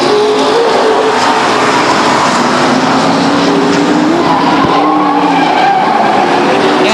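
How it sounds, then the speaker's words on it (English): Race car spinning out at Stockton 99 Speedway in 1999: a loud, continuous roar of engines and screeching tires fills the whole stretch, with no voices heard over it. "We've got a spin by the 98 car of Conasoto."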